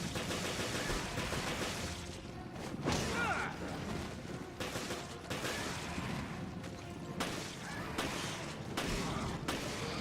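Gunfire in Resident Evil Revelations comes in rapid bursts of loud, dense shots with crashing impacts over a constant battle din, keeping a steady, frantic rhythm with short lulls between volleys.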